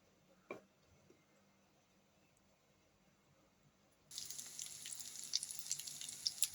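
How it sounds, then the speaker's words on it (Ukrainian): After a few seconds of near silence with a single faint tap, battered hake fillet starts frying with a steady crackling sizzle and scattered pops. "Смажимо до золотової сторинки, потім перевернемо і знову до готовності."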